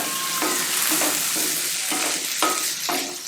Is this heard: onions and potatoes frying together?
yes